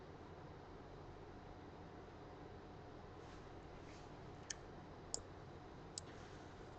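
Three sharp, faint mouse clicks in quick succession near the end, made while working in reporting software, over a quiet steady hiss.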